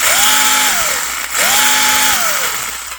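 An Arrma Grom RC car with a King Val brushless motor and stability control, whining up in two sharp acceleration bursts that hold a high pitch then drop away, loud and close, with no voices.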